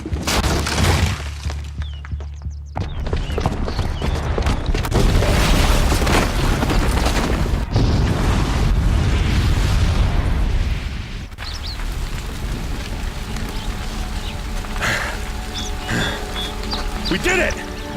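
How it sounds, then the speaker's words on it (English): A bomb goes off in the video game Horizon Zero Dawn: loud booming blasts and shattering debris roar for about ten seconds, then settle into rumbling rubble and ringing tones, with game voices speaking over it. "the booby trap on the bomb downstairs is gonna get set off"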